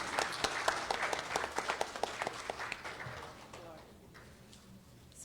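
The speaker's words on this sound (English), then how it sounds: "Let's give her a big round of applause." A burst of applause from a small crowd, loud at first and then fading out to near quiet over a few seconds.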